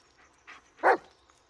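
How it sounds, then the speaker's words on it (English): A dog barks in the horror video game Blair Witch, two soft yips followed by one louder, sharper bark, close by against a quiet background. "What are you barking at?"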